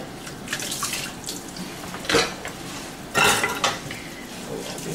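Cutlery and utensils being washed up in a kitchen sink, with scattered clinks and clatters of metal against dishes, two sharper clanks standing out, over running water.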